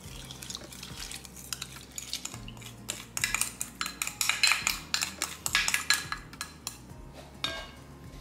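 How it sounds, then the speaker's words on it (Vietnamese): A spoon mixing bread dough of flour, salt, milk, yeast and sugar in a bowl, making repeated clinks and scrapes against the bowl. The strokes grow busier and louder as the mixing goes on, with no talking. "Dùng một chiếc thìa này, các bạn cứ trộn đều cái hỗn hợp bột với cả nước này cho nó thành một khối với nhau đi."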